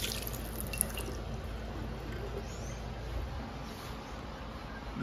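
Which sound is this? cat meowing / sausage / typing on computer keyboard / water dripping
water dripping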